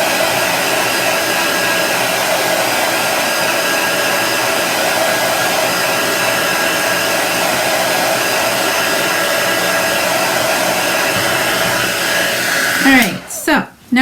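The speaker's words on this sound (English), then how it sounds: "You can also let your chalk dry, air dry, or you can use a hair dryer." Hair dryer blowing steadily on chalk paste drying on a Halloween sign, a loud, even whirring roar running nearly unbroken before it is switched off with a brief clatter at the end.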